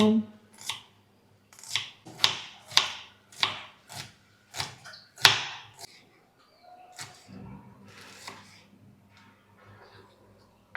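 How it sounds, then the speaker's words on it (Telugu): A knife chops onions into small pieces on a board, a dozen or so crisp cuts in an uneven rhythm, close and moderately loud, thinning out toward the end. "ఆనియన్స్ని చిన్న చిన్న ముక్కలుగా కట్ చేసి పక్కన పెట్టేసుకుందాం"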